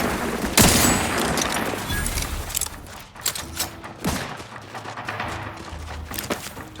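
Gunfire in The Outer Worlds 2, a loud opening volley and booming blast followed by scattered shots and thuds that trail off into sparser bursts.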